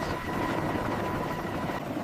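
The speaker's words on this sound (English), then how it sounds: "The helicopter descends into the dusty clearing, its pilot skillfully managing the powerful downdraft to land." A military helicopter descends into a dusty clearing, its rotor producing a steady, loud, broadband roar and wash without pauses or voices.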